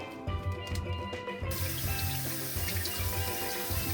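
A turkey is rinsed under a running kitchen tap. Water gushes steadily and splashes, loud and close, for the whole stretch, with no talking.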